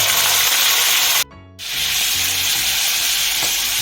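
Carrots are added to a hot pan of roasting peanuts over medium gas: a loud, steady sizzle breaks off for a brief gap, then resumes with a bright crackling fry, with no talk.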